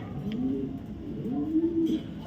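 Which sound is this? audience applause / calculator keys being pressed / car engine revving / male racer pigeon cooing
male racer pigeon cooing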